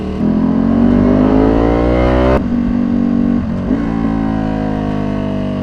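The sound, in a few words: Ducati superbike accelerating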